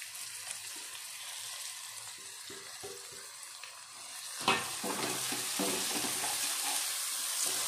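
Chopped onions fry in a pan for an aloo baingan dish, a faint soft hiss that swells into a louder sizzle with scraping stirs after a sharp clatter partway through.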